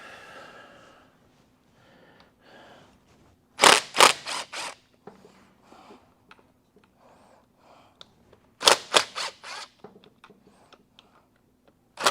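A ratchet loosening bolts gives two short bursts of rapid, close mechanical clicking, separated by long quiet stretches with faint ticks.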